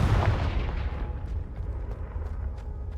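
Confringo blasting spell from a Harry Potter game going off as one heavy, booming explosion that starts loud and close, then rumbles and fades over a few seconds, with no voices.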